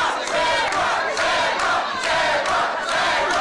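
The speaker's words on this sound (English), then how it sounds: "And listen to the crowd getting behind the Zebra Kid." Wrestling crowd at a six-man tag team match cheering and roaring in a big hall, a dense, continuous wall of voices that swells in waves and never drops away.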